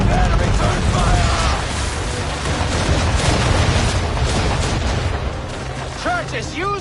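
Cannons fire during a naval battle between sailing ships in the video game Assassin's Creed III, with heavy booms and blasts rolling over one another amid crashing, splintering noise, while voices shout over the din.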